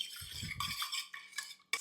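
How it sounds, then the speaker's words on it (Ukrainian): A utensil scrapes and swirls around a bowl in short, quick strokes, with faint clinks against the sides; no talking. "Тепер це все гарно перемішуємо."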